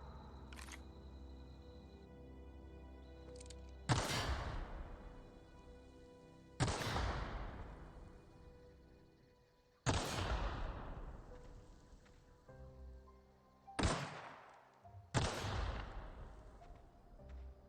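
Five separate gunshots in a video game, each a sharp loud crack with a fading tail, spaced a few seconds apart over a quiet ambient background with no talking.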